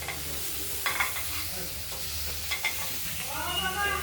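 Potatoes and cauliflower frying in oil in a wok, a steady close sizzle with a few scraping stirs of a spatula, without any talking.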